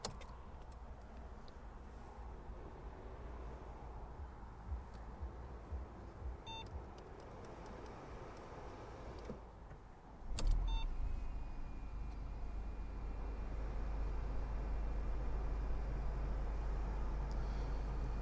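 A 2025 Opel Frontera hybrid SUV is started with a key: a few short electronic chimes sound, then the powertrain comes alive with a louder, steady low hum that continues to the end, with no talking.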